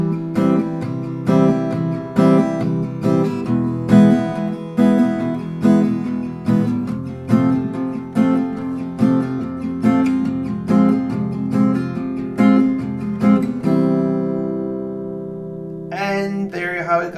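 Acoustic guitar strummed in a steady pattern of four strokes per chord, playing a song. The strums are rhythmic and clear and ring out alone, with a sustained chord fading near the end before a brief final strum.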